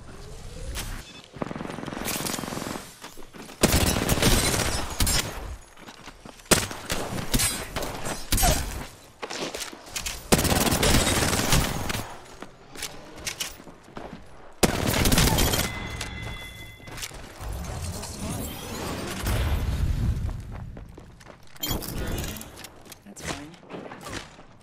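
Bursts of automatic gunfire hit the player in a battle royale shooter, firing in repeated volleys with impact crackles and shattering shield sounds, the loud clusters broken by short quieter gaps over roughly twenty-five seconds.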